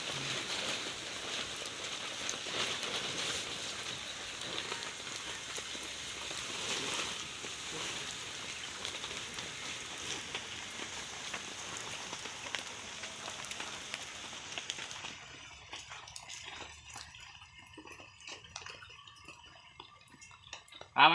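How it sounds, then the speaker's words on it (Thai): Rain from Typhoon Noru falls in a dense, steady patter for most of the stretch, then thins into scattered drips and lighter splashes near the end. "ฝนตกทำพายุโนรุเข้าครับ"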